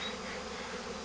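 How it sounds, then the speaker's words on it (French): A swarm of honeybees fills the air around a beekeeper as it gathers; a dense, even hum of countless wings surrounds the listener, steady and close with no pauses. "Me voilà dans un nuage d'abeilles"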